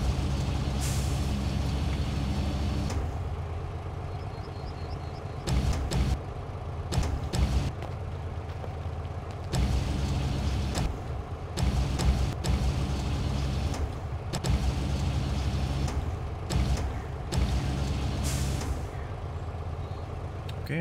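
A truck in the video game SnowRunner idles with a deep engine rumble while its air brakes let out repeated sharp hissing bursts in an irregular rhythm. The truck is loud and close throughout.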